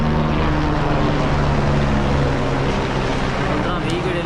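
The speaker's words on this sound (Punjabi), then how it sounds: "ਇੱਕ ਦੇਖੋ ਹੈਲੀਕਾਪਟਰ" A helicopter flies over a mountain trekking route from Govind Ghat to Govind Dham, producing a loud, steady engine and rotor drone that fills the clip and fades slightly toward the end.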